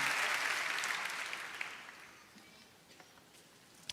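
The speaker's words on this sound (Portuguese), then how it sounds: "Você pode aplaudir o Senhor?" A church congregation claps during a worship service, a thick burst of applause at first that gradually thins and fades to a few scattered claps by the end.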